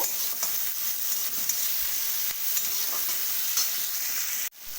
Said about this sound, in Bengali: ভালো করে নাড়াচাড়া করে নেব পেঁয়াজটা হালকা করে ভেজে নেব